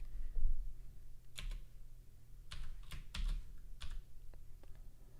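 Close, fairly quiet typing on a computer keyboard: irregular bursts of key clicks and clatter over a low steady hum, with no voices.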